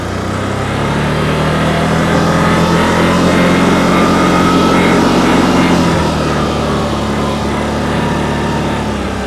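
A 2024 CFMoto CForce 800 Touring ATV engine drones loudly and steadily while riding in low-range work mode, a close, continuous motor hum that swells slightly midway before settling.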